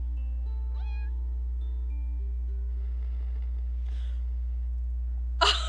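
A cartoonish cat meows from the video game Purrfect Date, a short rising, pitched call followed by quieter tonal game sounds and a brief burst of noise at the end.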